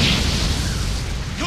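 Bomb blast in an anime fight, a loud, dense boom sustained for about a second and a half with a rumbling, noisy body.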